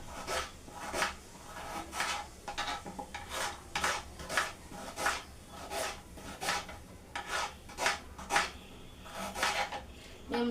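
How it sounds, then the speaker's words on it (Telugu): A knife slices two large onions thinly lengthwise on a board, making a steady rhythm of close, crisp cuts that each end in a light tap. "నేను పెద్ద ఆనియన్స్ టూ తీసుకుంటున్నాను సన్నగా కట్ చేసుకుంటు పొడవుగా కట్ చేసుకుంటున్నా"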